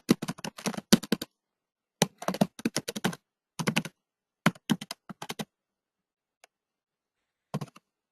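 Someone typing an email address on a computer keyboard, close crisp key clicks in quick bursts separated by short pauses, ending with a few isolated taps.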